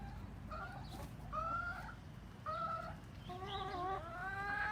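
A rooster named Jerry clucks in a series of short, clear calls, close by and alone, with a quiet steady background.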